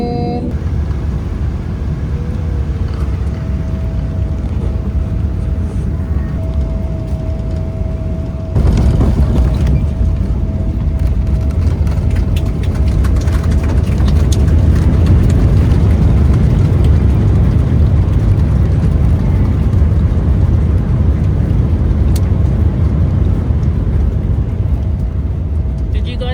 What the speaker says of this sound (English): We're landing.